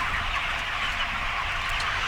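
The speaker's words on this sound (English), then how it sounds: "they'll be getting all these birds caught" Chickens being rounded up and caught for the processing plant, a dense, steady flock clamor of clucking and squawking with a continuous hiss of activity, fairly faint and without talk.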